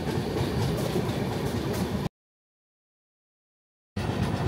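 The GHY-SMVT Express runs on the Guwahati to Bangalore line near the Karnataka and Tamil Nadu border. A loud, steady rumble of the train in motion cuts to about two seconds of silence, then the rumble returns.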